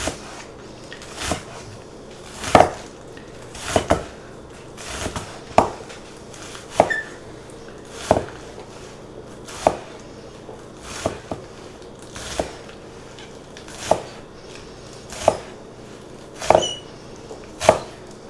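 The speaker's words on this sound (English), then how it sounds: "I'm going to cut them on an extreme bias, which means I'm cutting sort of ovals by angling my knife at about a 45-degree angle" Kitchen knife slicing scallions at a steep angle on a cutting board, sharp distinct chops spaced about a second apart, close and clear with a quiet background between strikes.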